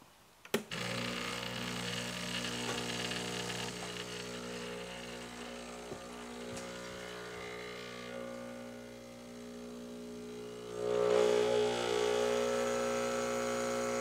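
A Breville Barista Express espresso machine pulls a shot with a steady, loud pump hum lasting throughout, swelling slightly toward the end, with no talk.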